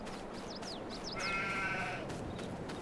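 Sheep in the farming video game Farming Simulator 22 bleat several times in quick succession, fairly faint, over a soft steady background hum, with a brief higher buzzing tone in the middle.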